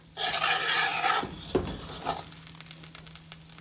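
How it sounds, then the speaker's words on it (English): A spoon fluffing cooking rice in a pot, with close, brisk scraping and stirring strokes, loudest at first and then tapering into lighter scrapes. "Just wanna grab yourself a spoon and just fluff the top of your rice so that it can mix in the bottom and cook."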